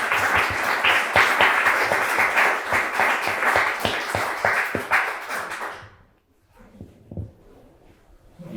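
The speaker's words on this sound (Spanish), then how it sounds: "les pido un aplauso también para Pablo Abramo y Elisa Díaz Castillo" An audience applauds with dense, steady clapping for about six seconds, then it stops abruptly and leaves a few faint scattered taps.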